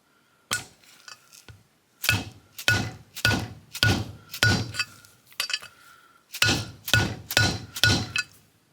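Dead blow hammer striking during valve spring installation for a BTR 660 platinum kit: about eleven sharp metallic clinking blows, some single and some in quick runs, close and distinct against a quiet background.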